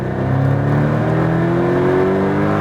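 Porsche Cayman GTS engine accelerating on a track, a loud steady close-up drone with engine pitch rising smoothly under full power, no voices.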